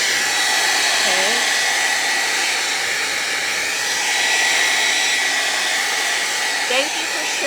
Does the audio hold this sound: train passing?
no